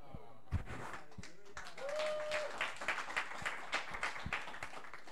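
An audience claps during a church service, a scattered patter of hand claps that builds and carries on, with people speaking over it.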